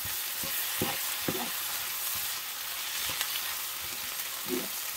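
Collard greens with garlic are stirred in a skillet, a constant hissing sizzle with repeated scraping strokes of the spoon at an irregular rhythm, close and fairly loud.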